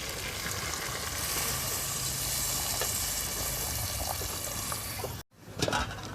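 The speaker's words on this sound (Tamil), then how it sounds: "கிரேவிக்கு தேவையான தண்ணி ஊற்றிக்கலாம்." Water pours steadily into a hot pan of simmering chicken gravy, a continuous hissing, bubbling wash that cuts off briefly before sizzling resumes.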